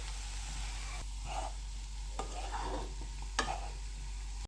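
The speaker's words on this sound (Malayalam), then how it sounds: "എന്നിട്ട് നമുക്ക് ഉരുളക്കിഴങ്ങ് നന്നായിട്ടൊന്ന് ഫ്രൈ ചെയ്തെടുക്കാം" Potatoes frying in a pan with spices for a Kerala-style potato fry give a faint, steady sizzle, broken by a few soft stirring scrapes and clicks, with no voice.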